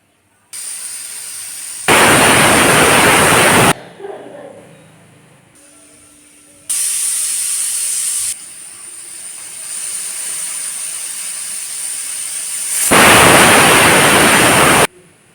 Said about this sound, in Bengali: ঢাকনা থেকে দুটো সিটি দিয়ে দেব দুটা সিটি পড়লেই বন্ধ করে দেবো